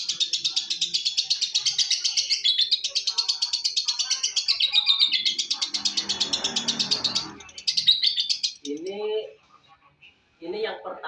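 Lovebirds chirp in a rapid, continuous high twittering that runs near and loud, broken briefly by a rustle, then trailing off into short scattered calls.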